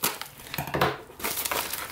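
Plastic packaging crinkles and rustles up close as a parcel from China holding tactical flashlight holsters is opened, with soft handling noises and no talking.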